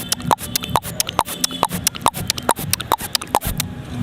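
A mimicry artist imitates a single horse walking on a road, using his voice to make a steady, evenly spaced clip-clop of sharp hoof clicks, close and alone.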